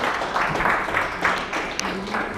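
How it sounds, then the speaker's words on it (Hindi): Clapping from an audience at a poetry open mic in Amritsar, a moderately loud rhythmic burst that carries on for a couple of seconds with faint voices underneath. "और जोर से तालियां सबके लिए मारा करो।"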